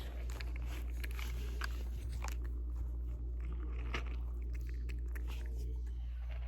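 An animal eats, biting and gulping food down with quick crunches and moist clicks at close range over a steady low hum, fairly quiet.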